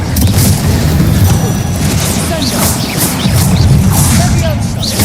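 Spell blasts from the Confringo fire-explosion curse in the Hogwarts Legacy game, heavy booming crashes and bursts repeating densely over a constant loud roar of combat noise.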